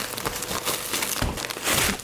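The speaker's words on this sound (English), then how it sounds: "We're gonna unwrap our cake." Plastic wrap and parchment paper are peeled off a moist cake, producing close, loud crinkling and rustling in irregular bursts with no talk.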